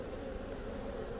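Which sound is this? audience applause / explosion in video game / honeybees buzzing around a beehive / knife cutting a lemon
honeybees buzzing around a beehive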